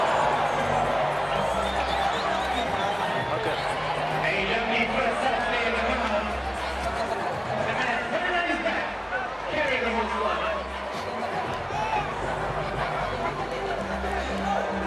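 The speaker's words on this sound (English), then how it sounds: "Oh, the crowd are in tonight and they're absolutely loving it." Crowd of university students at a Varsity Cup rugby match, WITS versus UJ, roaring and cheering continuously, a dense wash of voices and chatter with swells of excitement throughout.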